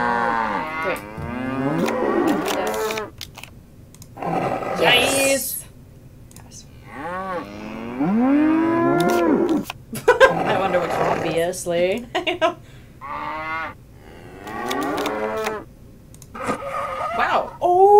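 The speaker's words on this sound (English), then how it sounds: "So much mooing." Cattle mooing in the Nancy Drew: The Shattered Medallion video game, a string of loud, drawn-out moos repeating across the stretch, with voices talking between them.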